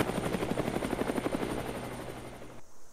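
A helicopter's rotor beats rapidly and steadily, a loud close chopping pulse over an engine whine, then cuts off abruptly near the end, with no talk.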